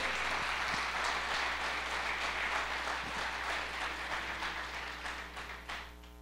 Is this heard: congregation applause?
yes